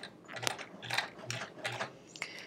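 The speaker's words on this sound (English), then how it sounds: "I'm just gonna try and sew straight, which is sometimes pretty difficult for me" A sewing machine backtacking while stitching a quilt, giving a few quick mechanical clicks and whirring bursts in short runs, close but fairly quiet, with no talking.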